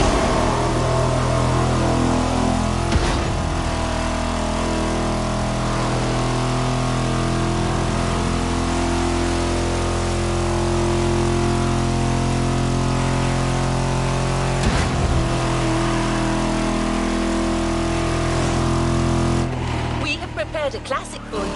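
A BMW Z4 M40i convertible from The Crew Motorfest drones with a steady, smooth engine hum held at an even pitch, with a couple of short sharp bursts along the way.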